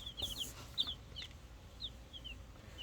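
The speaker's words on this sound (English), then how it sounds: "what I want to show you is some of the chickens" Chickens on a small poultry farm cluck in short, scattered bursts, soft and a little distant over a quiet background, with no talking.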